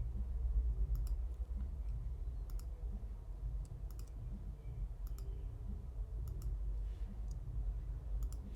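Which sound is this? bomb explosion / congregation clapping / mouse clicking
mouse clicking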